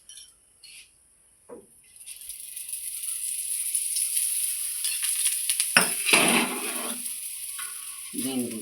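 Corn and meal maker cutlets sizzle steadily in hot oil, a continuous frying hiss that rises after a quiet start, with a few clinks of a utensil and brief voices near the end.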